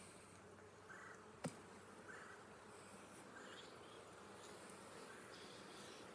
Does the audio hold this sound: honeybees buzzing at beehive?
yes